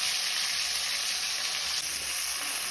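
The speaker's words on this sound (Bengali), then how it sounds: "এবার বেটে রাখা পোস্ত কাঁচা লঙ্কা তেলের মধ্যে দিয়ে দিতে হবে" Ground poppy seed paste and green chilli sizzling in hot oil, a loud, even, hissing fry heard up close and continuous, with one brief dip partway through.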